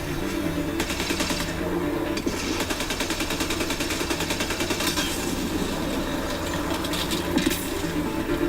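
Gunfire rattles nonstop in the video game Mass Effect, rapid automatic bursts that are loud and dense throughout, layered over a mechanical rumble.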